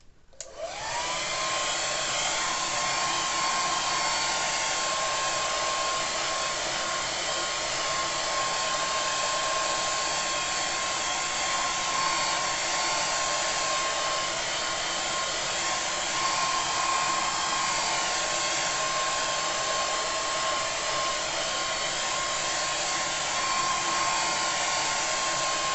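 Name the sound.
hair dryer drying a watercolour painting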